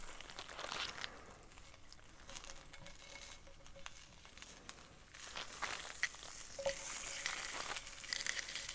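Food sizzles and crackles as a whole pack is fried inside a truck cab, a steady spitting hiss with brief crinkling, close and moderately loud, no talking.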